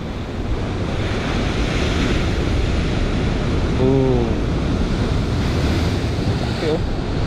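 Strong ocean waves roar continuously under a steady buffeting wind pressing on the microphone, loud and close. A faint voice rises briefly in the middle.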